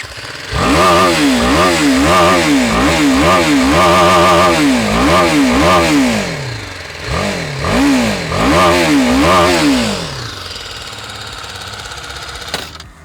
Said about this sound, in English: let me just fire it up and show you how it sounds